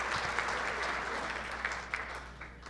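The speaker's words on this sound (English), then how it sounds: "a round of applause for Brent, longest standing sponsor" Banquet audience applauding a longtime sponsor at a sports hall of fame induction, a moderate, even patter of many hands heard from a distance, slowly tapering toward the end.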